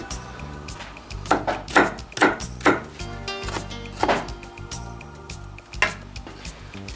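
A knife cuts kiwi on a board in a handful of crisp, irregular chops and taps, close and clear over a steady background of cooking noise, no talk.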